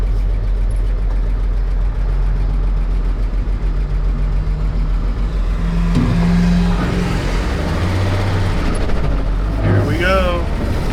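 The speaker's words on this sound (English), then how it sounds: "I think the next thing I need to do is adjust the valves because you can hear them rattling a little bit" A 1941 Chevy Coupe engine runs steadily with a low, loud drone and faint rattling valves, and a voice talks over it partway through.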